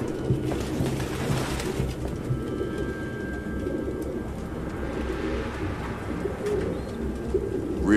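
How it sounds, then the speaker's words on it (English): Pigeons coo in low, throaty murmurs over a constant dull room rumble inside a cramped apartment in Detroit: Become Human, several birds layered close by with no talk. "No human could live with all these fucking pigeons."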